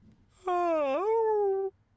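A dog in the video game Persona 3 Reload gives one long, drawn-out yawn that rises then falls in pitch, voiced and tonal, about a second long, close and clear against a faint background with no talk.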